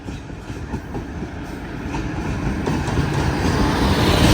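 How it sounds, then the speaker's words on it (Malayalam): A Kannur to Mangaluru passenger train pulls into a station, its rumbling wheels and rolling noise building steadily louder as it nears, with no voices over it. "കണ്ണൂരിൽ നിന്ന് മംഗലാപുരത്തേക്ക് പോകുന്ന പാസഞ്ചർ വരികയാണ്."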